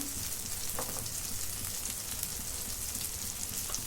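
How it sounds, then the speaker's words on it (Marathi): Gram flour (besan) sautéing in a pan for a paneer mixed vegetable dish gives a steady, even sizzle. A few soft scraping touches come through, with no voices. "आता बेसन पण परतून घेतलं"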